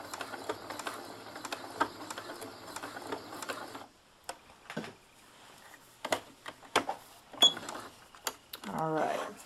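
A sewing machine stitches a seam on a small dollhouse-scale pillow, running steadily for a few seconds before stopping, followed by scattered clicks and handling taps.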